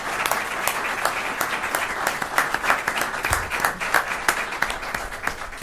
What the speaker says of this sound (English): join me in a round of applause for our panel